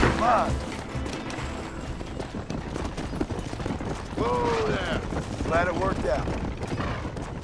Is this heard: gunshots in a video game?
yes